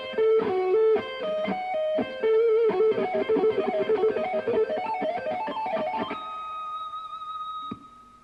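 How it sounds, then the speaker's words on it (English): A guitarist plays a fast diminished arpeggio shred lick on electric guitar, a rapid cascade of clean, bright picked notes climbing and falling, ending on a sustained ringing note that fades out. "Now lick 14 is a little different. It's a diminished arpeggio, and it goes like this."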